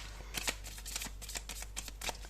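Oracle cards being shuffled for a card reading, a steady run of soft, close riffling and flicking with no voices.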